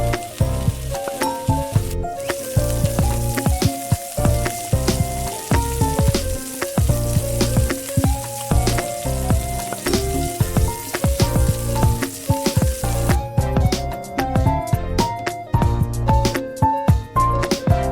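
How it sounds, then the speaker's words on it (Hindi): Potato wedges shallow frying in oil until golden brown, a loud, dense crackling sizzle close up that continues throughout, with occasional clinks and stirring noises and no voices. "इसे शैलो फ्राई तब तक करेंगे जब तक ये गोल्डन ब्राउन ना हो जाए"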